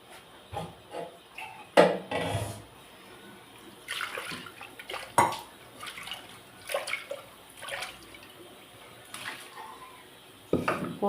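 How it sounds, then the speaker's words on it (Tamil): Water is poured into a pot that held cooked moong dal to rinse it in a home kitchen, with splashing and metallic clinks coming in uneven bursts, close and fairly loud. "இதை கொஞ்சம் தண்ணி ஊற்றி அலசி எடுத்து ஊற்றிடலாம்."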